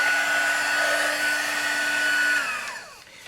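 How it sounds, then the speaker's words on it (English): A heat embossing tool blows hot air on its high setting, a steady close whirring drone with a tonal whine that winds down at the end as it is switched off. "And I do my heat embossing on high"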